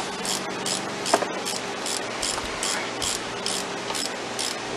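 A flex head ratchet clicks in a steady, rapid rhythm while an AC compressor is bolted onto a 2000 Jeep Grand Cherokee, close and fairly quiet against light background noise.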